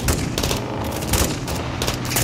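Gunfire in the Call of Duty: Modern Warfare 2 video game, dense overlapping bursts of automatic fire and shots in rapid succession, loud and continuous with no pauses, no talk heard.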